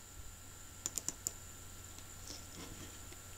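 A computer mouse clicks during spreadsheet work in Excel: a few sharp, faint clicks in a quick cluster over a steady background hum, with no voices.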